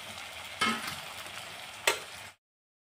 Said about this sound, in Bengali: এতিয়া পটলখিনি ভালদরে মশলার লগত মিক্স করে দিম